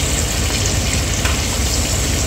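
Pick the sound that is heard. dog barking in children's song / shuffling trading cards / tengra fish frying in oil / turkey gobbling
tengra fish frying in oil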